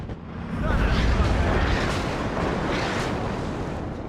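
Artillery fire in the WARNO real-time strategy game makes a loud, sustained roar with a rumbling blast that washes across the whole clip. Faint voices can be heard underneath it.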